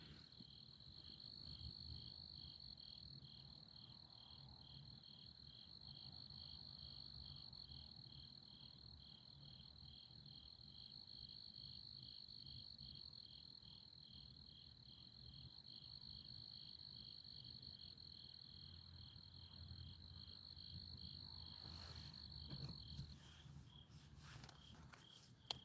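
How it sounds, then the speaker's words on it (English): Crickets chirp steadily at night in a fast, even, high-pitched trill that runs almost unbroken for over twenty seconds, faint and distant beneath low rustling and a few soft knocks near the end. "You like the cricket sound."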